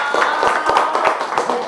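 A small group claps together in a room during a bottle-filling team game, a brief round of scattered, fairly loud claps, with voices mixed in beneath them.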